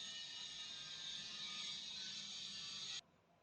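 Sewing machine stitching the neck of a suit, a steady close mechanical whir that runs for about three seconds and then stops abruptly.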